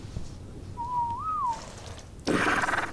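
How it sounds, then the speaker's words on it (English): A single whistle in the video game Ark, a clean tone that rises briefly and falls back, followed by a short burst of rougher noise. "Whistle them both to stop."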